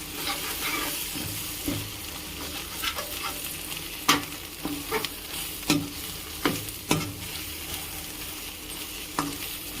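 Egg fried rice stirred and mixed in a hot pan, a continuous sizzle broken by irregular spatula scrapes and knocks against the pan, close by with no talk.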